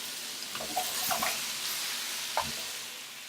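Onion, garlic and carrot sizzling in a pot for a classic lamb stew, a soft steady hiss with a few brief scrapes and clatters of stirring, fairly quiet and without talk.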